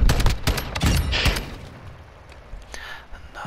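Rapid bursts of video game gunfire crackle loudly in quick succession at the start, then fade into quieter, sparse background noise.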